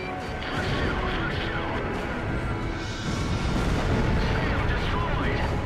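A SOD superweapon launching in Ace Combat Zero, heard as a sustained heavy roar of explosions and rumbling blasts, continuous and loud throughout with a radio-style voice layered over the din.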